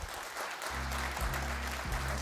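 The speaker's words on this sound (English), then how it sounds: "Why are y'all clapping for this?" Clapping from a summit audience after a keynote at the Aspen Cyber Summit, a diffuse steady patter mixed with a low repeating hum, heard at a distance.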